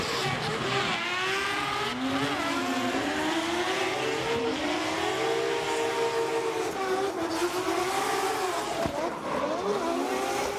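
A Mazda RX-7 FD drift car's rotary engine screams at Okayama International Circuit during a competition run, a loud, sustained wail with rising and falling pitch as the throttle is worked, heard alone and close.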